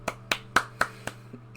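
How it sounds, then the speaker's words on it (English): Five or six sharp claps ring out at a steady, slow rhythm, fairly faint and sparse rather than a full crowd, from the video game Suzerain. "everyone in the room started clapping"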